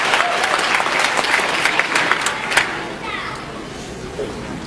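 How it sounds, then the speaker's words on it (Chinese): A large audience welcoming a speaker to the stage applauds loudly and continuously. The dense clapping holds steady before easing slightly toward the end. "大家掌声欢迎"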